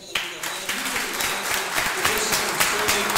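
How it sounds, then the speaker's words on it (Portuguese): Church congregation applauding, a dense sustained wash of clapping throughout with some voices mixed in. "Por que não demos um forte aplauso"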